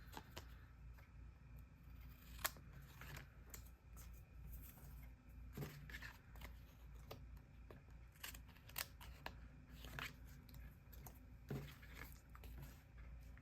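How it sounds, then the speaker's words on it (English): Faint, close scissors snips cutting paper for a quilted star craft, several quick separate cuts spaced across a quiet room. "Take my scissors here and just cut right up here."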